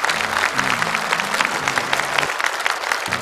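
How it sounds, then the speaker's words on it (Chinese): Applause from a seated audience honoring entrepreneurs at a Chinese manufacturing forum, steady dense clapping throughout with a low musical tone underneath. "我觉得要大家给这些企业家们一点掌声"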